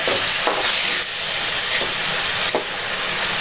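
Onion paste and green chillies frying in a pan, a steady loud sizzle and hiss with faint stirring scrapes.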